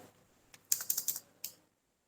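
Keys are tapped on a computer keyboard while entering data in Tally accounting software, a quick close cluster of about half a dozen light clicks followed by a single final press, in a quiet room.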